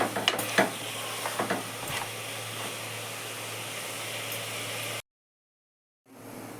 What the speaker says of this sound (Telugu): ఫస్ట్ ఇలా బాగా ఫ్రై కానివ్వాలి